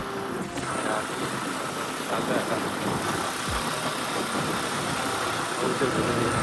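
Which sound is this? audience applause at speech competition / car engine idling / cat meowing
car engine idling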